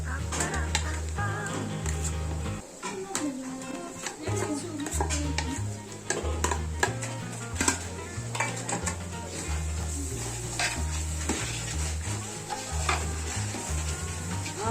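Ginger fries in a pan for mutton biryani while a utensil stirs it, giving a steady close sizzle with repeated scraping and clinking strokes against the metal throughout.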